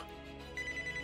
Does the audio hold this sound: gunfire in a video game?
no